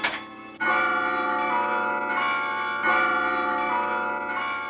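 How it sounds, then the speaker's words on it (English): The carillon bells of the Peace Tower in Ottawa ring out loud and resonant, with repeated strikes whose long, overlapping tones hum and sustain between blows. "In Ottawa, the bells in the Peace Tower confirmed the glad news."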